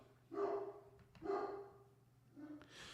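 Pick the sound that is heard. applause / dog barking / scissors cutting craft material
dog barking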